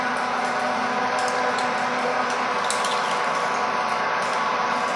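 A KERN MUSTANG 4 pipe threading machine cutting a thread on pipe, a steady loud mechanical drone with a constant hum and faint ticking and creaking on top, close and continuous with no talk.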